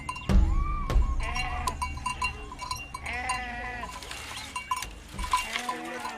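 A herd of livestock nearby: overlapping bleats from sheep and goats, with clinking bells and scattered human voices amid the animals.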